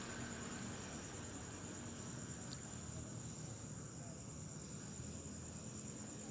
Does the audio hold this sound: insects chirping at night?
yes